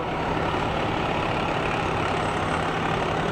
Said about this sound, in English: Another Niagara Hose Company vehicle here.